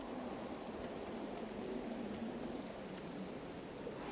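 Rain from a storm in the video game Hades 2, an even, unbroken hiss of downpour holding steady throughout, moderately loud with no speech over it.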